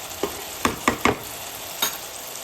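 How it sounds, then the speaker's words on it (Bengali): Chicken pieces go into frying spice paste for green chicken, a constant sizzle broken by a cluster of quick spatula scrapes and clacks, then one last stroke, close up and without voices. "আমি মাংসটা আস্তে আস্তে দিয়ে দেবো"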